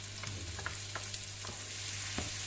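Onions frying in butter for homemade lasagne, a steady close sizzle with a few soft scrapes of stirring at intervals, no voices.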